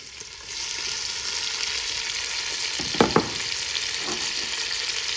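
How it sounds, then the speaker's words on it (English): Chopped onions sizzle steadily in rendered pancetta fat in a pan, a constant frying hiss with a couple of brief louder stirring scrapes in the middle. "Add the vegetables. We've got 2 cups of onion."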